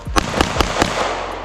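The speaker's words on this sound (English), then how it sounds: "just shot her first gun" A first-time shooter fires a gun outdoors, and a sharp report is followed by a few quick cracks and a fading rumble in one short burst.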